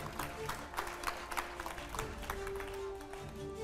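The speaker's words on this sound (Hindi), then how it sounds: "जोरदार तालियों से स्वागत कीजिए।" Faint, steady applause from a studio audience welcoming a politician onto a TV talk show set, a continuous patter of many hands at a distance, with a voice speaking over it.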